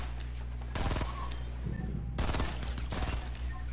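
Two bursts of rapid, muffled gunfire in Fortnite at Retail Row, fairly loud and close, separated by about a second of low game ambience, with no one talking.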